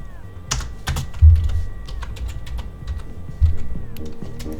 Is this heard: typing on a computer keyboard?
yes